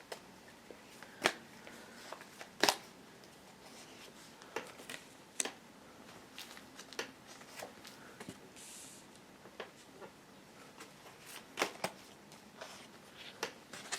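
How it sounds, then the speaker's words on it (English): Soft, scattered tarot card shuffles and light clicks come and go at a quiet level, with occasional sharper flicks and no voices. "I'm shuffling the cards"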